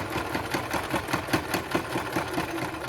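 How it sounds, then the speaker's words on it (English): Domestic sewing machine stitching elastic onto fabric while making a scrunchie, its needle clattering in a steady, even rhythm of close, fairly quiet repeated strokes with no talking. "I'm going to align the edge of my presser foot with the edge of my fabric and sew this on"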